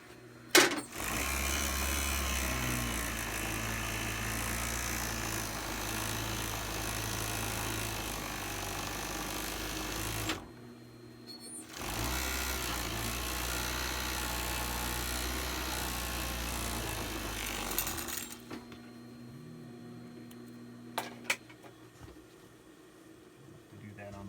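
A serger stitches the seams of a wool shirt cut from a 6-point Hudson Bay blanket, its motor running in steady sustained bursts with a short pause between runs, then stopping into quieter background noise near the end.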